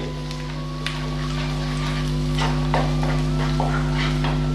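Ginger garlic paste fries in a pan on medium flame while pepper chicken is being made, giving a steady soft sizzle under a constant low hum, with scattered stirring scrapes and clicks.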